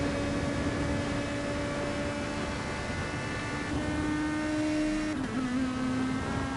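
GT500 and GT300 race cars overtaking at Fuji in the video game GT Sport, with a steady high engine drone, sustained tonal whines that shift pitch near the end, and no voices.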